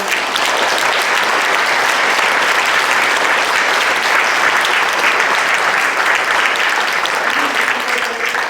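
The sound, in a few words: applause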